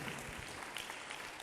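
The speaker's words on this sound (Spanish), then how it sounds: "Dale un aplauso al Señor" A church congregation claps together during a Spanish-language worship service, a steady, dense patter of many hands held at an even, fairly soft level throughout.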